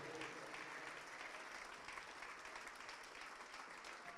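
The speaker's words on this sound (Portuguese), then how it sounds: "Vamos aplaudir mais ao nome de Jesus." A church congregation gives sustained, dense applause with no break, heard at a moderate distance as a steady wash of many hands clapping together.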